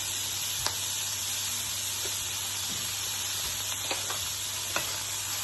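Beans and paneer sabji sizzle steadily in a pan while a spoon stirs it, giving a continuous frying hiss punctuated by a few soft scraping taps, close and without talk.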